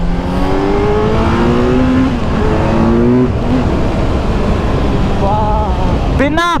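Kawasaki Z900 motorcycle descending a hill road near Rishikesh on engine braking alone, no foot brake, its engine note shifting steadily under strong wind roar, loud and close throughout.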